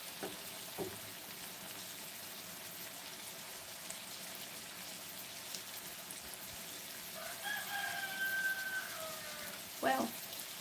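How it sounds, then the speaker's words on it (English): A rooster crows once in the distance, faint over a steady background hiss of sausage frying. "there's your second rooster call."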